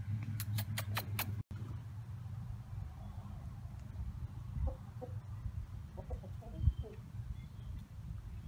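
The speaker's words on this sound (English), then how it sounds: "So he was calling the chickens to come follow him." Backyard chickens with a white hen among them, soft scattered clucks close by under low outdoor background noise after a quick run of sharp repeated calls at the start.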